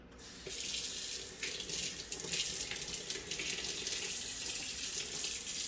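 Warm water runs steadily from a tap into a sink, a continuous hissing splash close by with no voices.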